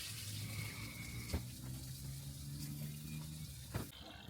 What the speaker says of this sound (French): Il y a de l'eau qui coule derrière.